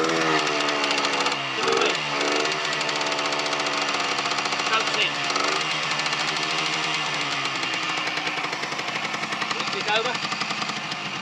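Abandoned Yamaha motorcycle engine started and running, a loud, rapid, rattling putter that holds steady close by throughout, with a few brief revs.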